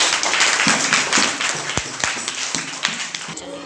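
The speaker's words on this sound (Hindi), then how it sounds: "बजाइए ताली।" Children in a classroom clap in an uneven burst of applause, loud and close, with a few sharp separate claps as it dies down and faint talking underneath.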